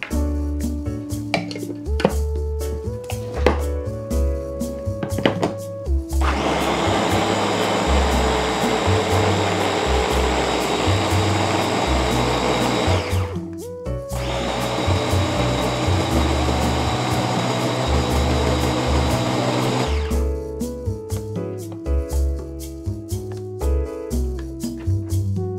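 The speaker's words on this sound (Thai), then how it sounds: "แล้วเราก็เตรียมปั่นได้เลยค่ะ" Blender blending a Thai red-and-green chili seafood dipping sauce with fish sauce, a loud steady whir in two long bursts split by a brief pause, with clattering and handling noises before and after.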